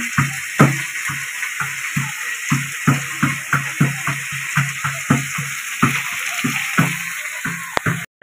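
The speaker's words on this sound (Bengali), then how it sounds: "বুনোর 2 পিস মাছ সিদ্ধ হচ্ছে হলুদ দিয়ে, নুনও না।" Two pieces of fish cooking in a pan with turmeric, no salt, in a home kitchen: a bubbling, sizzling bed broken by a regular series of sharp scraping stirs, close and fairly loud.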